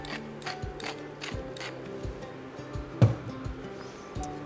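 A pepper mill grinds black pepper into a pot of French provincial vegetable soup, giving a run of soft ratcheting clicks close by, with one sharper knock partway through.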